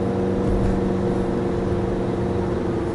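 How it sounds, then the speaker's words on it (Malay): A 2022 Nissan Serena facelift's engine runs under light throttle, heard from inside the cabin as a steady, even hum with a low droning tone, with no voices over it. "Boleh dengar dia punya enjin sedang berjalan"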